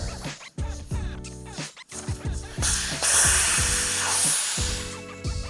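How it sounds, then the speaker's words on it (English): Air hisses steadily out of a tire being deflated on a Rabaconda mini tire changer, the broadband rush starting partway through and holding loud and close over a tonal background. "Next thing you want to do is deflate the tire."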